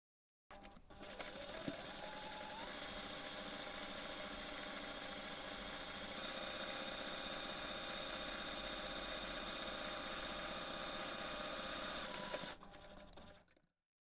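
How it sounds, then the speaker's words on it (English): Steady sewing machine running continuously for about twelve seconds, stitching a seam on a bag with a pen pocket, a loud even mechanical whir that starts and stops abruptly with no talking. "Then you can take this to the machine and sew the seam."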